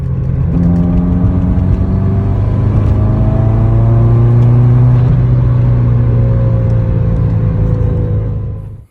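Engine of a 2004 Subaru WRX while driving, a steady loud interior drone with rising and falling rev tones as it accelerates and shifts, continuous throughout before tapering off at the very end; no talking.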